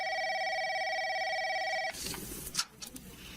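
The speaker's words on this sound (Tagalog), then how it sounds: "Nagre-ring yung telepono natin." A telephone rings in a home in a steady electronic warble, loud and continuous, then cuts off abruptly, leaving faint room noise and soft handling sounds.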